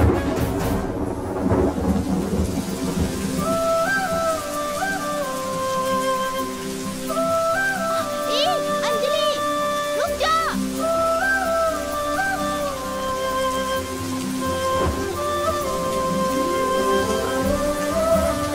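Rain falls with rolling thunder, a continuous stormy wash heard under a swelling melodic music score throughout, with no talking.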